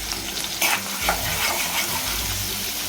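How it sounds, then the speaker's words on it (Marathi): Garlic, curry leaves and finely chopped onion sautéing in hot oil for dal khichdi: a loud, close, continuous sizzle with stirring scrapes and crackles as the pieces are tossed. "तेल तापल्यावरती मी लसूण घालते त्यानंतर कढीपत्ता त्यानंतर बारीक चिरलेला कांदा परतून घेते"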